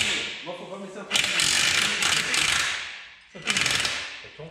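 Ratchet wrench working on the fuel pump of a BMW E46 in a garage, with bursts of rapid metallic clicking separated by a short pause and faint voices in the background.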